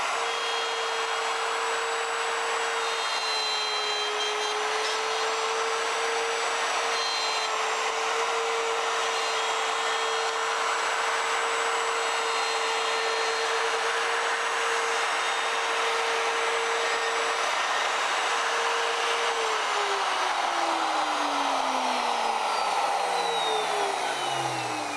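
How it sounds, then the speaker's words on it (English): A plunge router with an oversized guide bushing cuts a slot in a guitar headstock held in a slotting fixture. It makes a loud, steady high whine with a cutting hiss, and the pitch sinks near the end as the motor winds down. "Now I'm going to go ahead and route out this slot."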